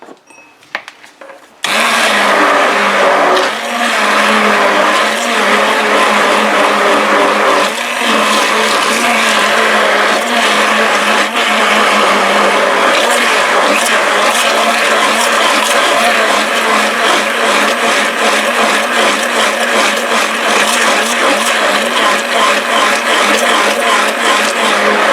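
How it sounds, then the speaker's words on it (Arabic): An electric blender whirs loudly and continuously, mixing batter for quick no-rise baghrir, starting abruptly after a brief quiet moment and running steadily close up with no talk. "الآن غنخلط الخليط بالخلاط الكهربائي على هذا الشكل هذا"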